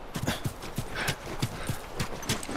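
Rhythmic clip-clop of horse hooves at a steady trot, crisp and close, with a brief whinny-like sound in the middle, from the video game The Last of Us.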